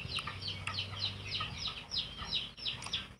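A chicken character in a video game clucks in quick repeated bursts, faint and close, over a low background hum.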